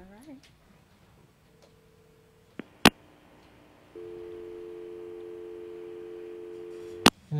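After a caller hangs up, a telephone line plays a steady busy or disconnect tone that runs for several seconds, cut by a couple of sharp clicks, faint and alone with no talking.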